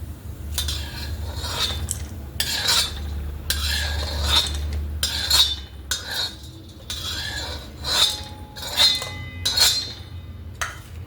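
Roasted lentils scooped out of a pan with a metal spoon, a steady run of close clinks and scrapes against the pan repeating irregularly, each stroke loud and distinct.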